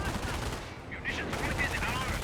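Dense, continuous battlefield gunfire from Company of Heroes 1, a steady rattle of shots with no pauses, loud throughout the short stretch.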